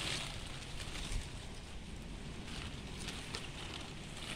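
Strong wind blowing outdoors during the windy season, a loud continuous rushing roar buffeting the microphone with gusty surges throughout and no speech.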